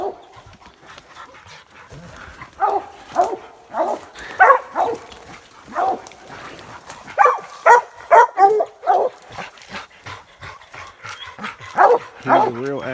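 A kennel dog barks and yips repeatedly in irregular bursts, fairly close and loud, with some whimpering and panting between the barks.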